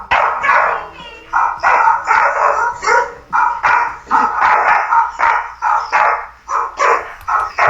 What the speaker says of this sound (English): Anyway, next is dog barking.